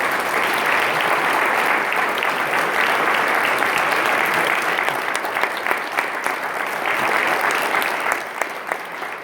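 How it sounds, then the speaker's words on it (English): A conference audience applauds the agenda planning committee, producing dense, sustained clapping from a large crowd that stays loud and even before tapering slightly near the end. "so we can give you a round of applause"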